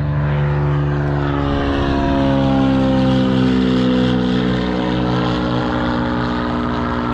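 A droning propeller engine hums steadily and loudly throughout, its tone shifting slightly as a small yellow propeller airplane passes close by.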